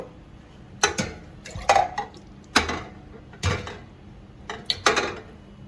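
A glass jar and its lid are set into a pot for sterilising, making a string of close, sharp clinks and knocks in irregular clusters with quiet gaps between.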